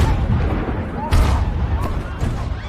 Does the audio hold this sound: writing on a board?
no